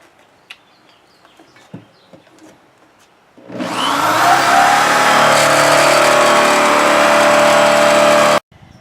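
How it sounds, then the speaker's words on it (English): A power drill bores a starter hole for a jigsaw cut: a few faint clicks, then a loud, steady high whine that runs for about five seconds and stops abruptly. "I have to use this to make the starter hole to get the jigsaw started"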